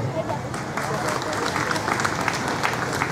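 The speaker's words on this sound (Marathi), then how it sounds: "आपण जोरदार टाळ्या हात वरती करून आपण जोरदार टाळ्या वाजवल्या" Loud, steady applause from the audience at a public meeting on Dr. B.R. Ambedkar's 22 Vows, a dense wash of clapping filling the hall with voices mixed in.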